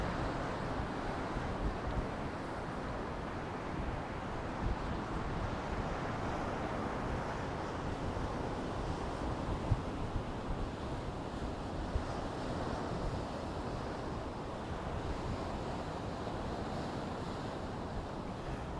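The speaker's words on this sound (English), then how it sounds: "hopefully this wind will be nice to me" Strong wind buffeting on an east coast UK beach at Easington, a constant roaring rush with crashing surf beneath it, unbroken for the whole stretch and no voices.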